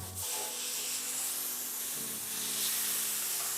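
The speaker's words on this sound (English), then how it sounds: "we're gonna start adding our hamburger patties" Hamburger patties hitting hot vegetable oil and butter in a pan for an In-N-Out style Flying Dutchman burger, a broad steady hiss of sizzling that swells slightly midway and holds on close and constant.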